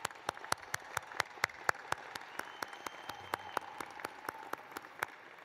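Graduation commencement audience claps steadily, a thin, sparse round of applause with sharp individual claps standing out, fairly faint and continuous across the whole stretch without speech.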